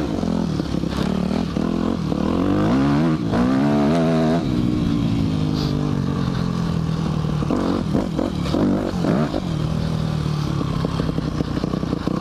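A Yamaha dirt bike engine running off-road, with loud close revving that rises and falls in pitch, repeated throttle blips and some clattering, continuous for about twelve seconds with no talking.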